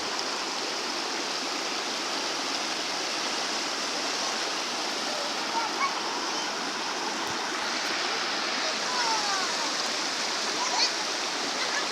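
Broad, steady roar of falling water at Curug Leuwi Petir, a waterfall among volcanic rock formations, filling the whole scene continuously at close range with no voices.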